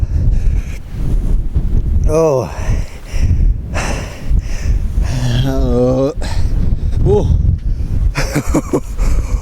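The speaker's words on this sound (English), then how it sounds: "Oh, it's windy." Blustery wind in Scotland buffets the microphone in a steady low roar, with a voice exclaiming briefly over it.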